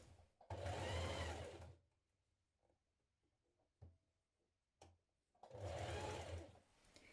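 A sewing machine stitches teddy bear fabric pieces together in two steady, fairly loud bursts, the first about a second long and the second near the end, with quiet gaps and a couple of small clicks in between.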